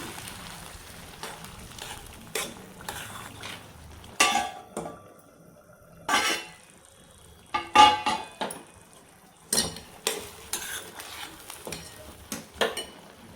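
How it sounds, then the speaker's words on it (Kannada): Cashews are stirred into kesari bath in a pot, giving a run of separate scraping clinks and knocks of a spoon against metal at close range, with short pauses between strokes and no talk. "ಈ ತುಪ್ಪದಲ್ಲಿ ಏನು ಕರೆದಿಟ್ಕೊಂಡಿದ್ನಲ್ಲ ಆ ಗೋಡಂಬಿ ಹಾಕ್ಬಿಟ್ಟು ಚೆನ್ನಾಗಿ ಕಲಿಸ್ತೀನಿ."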